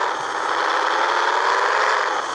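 A Ford Maverick with a five-speed gearbox runs its engine in a steady, loud, close mid-range drone with slight rattle and no clear rise in pitch.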